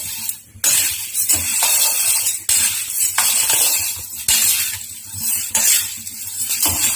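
Horse gram dry-roasted in a pan over low heat, grains rattling and a spatula scraping in repeated stirring strokes with short pauses, close and fairly loud, no voices.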